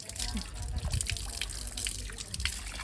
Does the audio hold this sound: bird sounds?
no